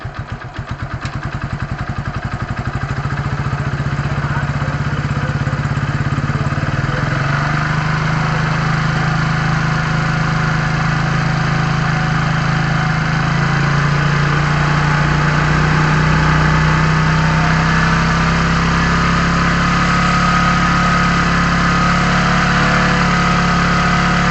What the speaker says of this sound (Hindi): मैं पहले इंजन की RPM को बढ़ाता हूँ।